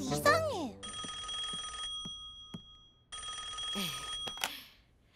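A telephone bell ringing in an animated cartoon, two sustained bursts of bright electronic trilling separated by a pause, along with a few sharp clicks and a voice.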